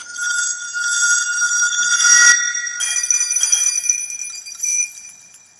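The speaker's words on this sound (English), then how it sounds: "This gives an almost build up to the glass smashing" Glass smashing foley preceded by a reversed build-up: a rising glassy shimmer swells to a sharp crash, followed by bright ringing and tinkling shards that fade out.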